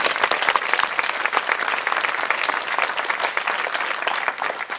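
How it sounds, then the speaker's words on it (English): Sustained applause from a school audience at a middle school closing ceremony, dense steady clapping throughout, loud and near, with no voices over it. "And that deserves another round of applause."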